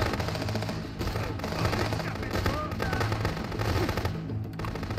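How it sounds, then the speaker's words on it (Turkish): Rapid automatic gunfire from the police-checkpoint video game Contraband Police Simulator keeps up a dense, continuous crackle of shots throughout, loud and steady with no pauses. "Adam şarjör değiştirirken vurdum iyi mi?"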